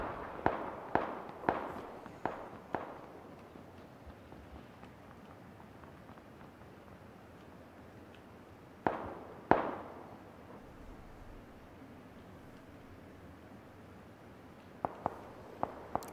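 Gunfire in a competitive PUBG match: a quick burst of sharp shots, a long quiet stretch, two more loud cracks near the middle, then a final cluster of shots at the end.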